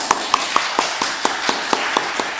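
A Baptist church congregation at Sunday worship clapping to welcome a newly registered member: crisp, even claps in a steady rhythm of about four per second, close and fairly loud.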